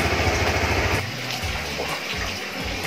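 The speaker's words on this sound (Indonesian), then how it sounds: "ini bisa di starter ketika koplingnya ditekan" A Supra GTR 150 motorcycle with the clutch lever pulled in and in second gear fires up on the electric starter; a loud broadband engine roar at first drops back to a pulsing, uneven idle throb close by.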